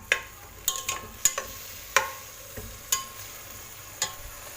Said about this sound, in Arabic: وننزل المطيشه والبصله بزوج بيهم، خليهم يتقلاو لينا مزيان